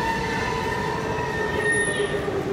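A metro train runs through a Moscow station near Tekhnopark, giving a steady, loud rumble with sustained high wheel squeal and ringing tones throughout.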